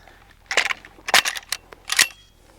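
AK rifle with a steel-cased round stuck on the rim, slammed down repeatedly to free it: four sharp, loud metallic impacts spaced about half a second apart, with no talking.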